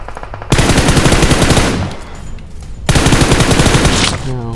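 Loud automatic gunfire from PUBG Mobile, two long sustained bursts of rapid shots with a short lull between them, close and dominant with no talk.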